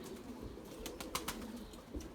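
Pigeons coo softly in a garden loft during stormy, windy weather, with faint wing flaps and rustling, all quiet and somewhat distant.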